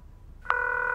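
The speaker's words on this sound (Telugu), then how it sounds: "శ్రీ ఫోన్ రింగ్ అవుతుంది" Halfway through near silence, a phone starts ringing: a sudden electronic tone that holds steady and clear to the end, with no talking.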